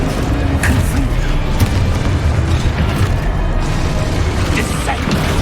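Confringo blasting-spell explosions in the Hogwarts Legacy video game, loud booming rumbles with creaking mechanical clatter in a dense, continuous game battle mix.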